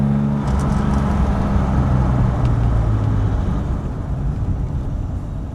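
A 1960 Jaguar XK150 3.8 S fixed-head coupe drives with a steady, close, low engine drone and exhaust rumble. The sound eases slightly toward the end.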